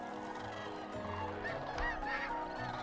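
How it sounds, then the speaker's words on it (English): A flock of geese honks at sunrise, with repeated overlapping calls rising over a steady background murmur of many birds, moderately distant and without voices. "all these gorgeous birds cooing as they wake up in the morning"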